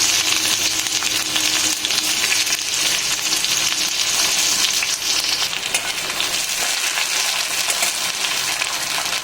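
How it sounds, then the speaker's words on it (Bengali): Onion fries in oil with a dried red chilli and nigella seeds for mourala fish jhal, a loud, dense, unbroken sizzle with faint crackles throughout. "পেঁয়াজটা আধ ভাজা মতো হয়ে গেছে"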